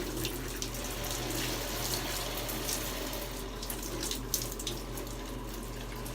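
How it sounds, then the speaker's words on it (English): Water splashes and rushes continuously, close and moderately loud, as a face is dipped into a basin of water, with a steady sloshing wash and a few small splashes and no voices. "I'm gonna dip my face in the water and I'm gonna come back out."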